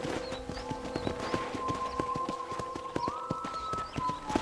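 Horse hooves clip-clop in a fast, even rhythm while riding in the video game Red Dead Redemption, close and clear throughout with a faint sustained tone running underneath.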